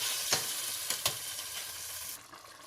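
Tomatoes fry in a pan with cumin masala, giving a soft, steady sizzle with a few brief clicks. The sound is quiet and close, with no talking.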